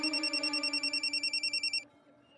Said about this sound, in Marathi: अगं फोन वाजतोय